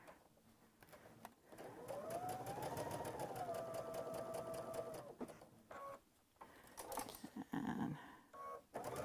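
An embroidery sewing machine stitches close by in a rapid, even mechanical rattle with a rising and falling whine, then breaks into shorter bursts and pauses as it backs up a few stitches.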